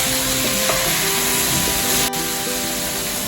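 Mixed vegetables in a hot frying pan, sizzling steadily while being turned and stirred, with a brief scrape partway through; continuous close frying hiss with no talking.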